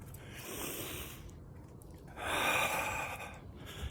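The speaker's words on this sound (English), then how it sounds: "Nice big deep breaths," Two deep breaths through the nose, close and soft: a long airy inhale, a pause, then a second fuller rushing breath.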